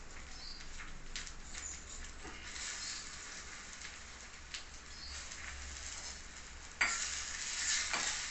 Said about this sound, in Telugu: వేగిపోయింది, కూర మగ్గిపోయిందండి, పులుసు కూడా ఉడుకుతోంది.